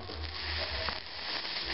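Flux sizzling as a soldering iron tins solder while working on an Athearn F59PHI model locomotive, a faint crackling hiss over a low hum, with no speech.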